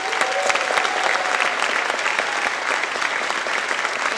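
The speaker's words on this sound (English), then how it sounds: "I want to give her a roaring applause." Steady, dense applause from an audience at a school district Innovator of the Year awards ceremony, filling the whole stretch at an even level with no speech over it.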